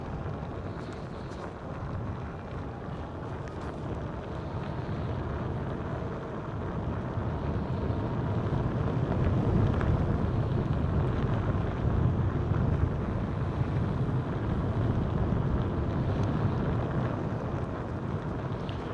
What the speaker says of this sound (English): Now the wind's picking up a little bit